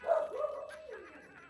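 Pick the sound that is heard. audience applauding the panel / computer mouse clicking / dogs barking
dogs barking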